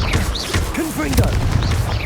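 A Confringo explosive spell is cast in Hogwarts Legacy, a loud booming burst amid busy combat effects and whooshing magic sounds, with a voice calling out over the fray.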